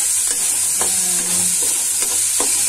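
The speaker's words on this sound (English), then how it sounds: "the onions and garlic, and now I just saute it once" Onions and garlic being sautéed in a pan over a gas flame, with a steady soft sizzle broken by a few scraping stir strokes, close and alone.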